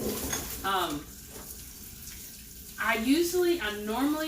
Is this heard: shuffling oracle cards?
no